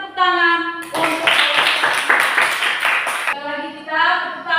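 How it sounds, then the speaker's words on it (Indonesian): A classroom group bursts into applause, a few seconds of dense mixed clapping from many hands, bracketed by a voice talking before and after. "Ayo mari kita tepuk tangan untuk"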